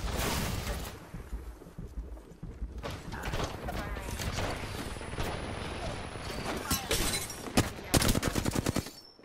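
Rapid bursts of gunfire in Apex Legends on the Olympus map, loud and repeated in quick volleys, heaviest near the end, mixed with game effects and in-game voice callouts.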